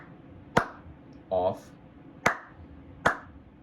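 Three sharp, separate hand claps, close and loud, set off a sound sensor module in an Arduino LED setup, with a brief spoken word between them.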